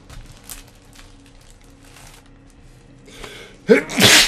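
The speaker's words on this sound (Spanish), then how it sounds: "Sí, voy a estornudar, yo creo." A person sneezes once, close and loud, at the end after a quiet stretch with faint background sounds.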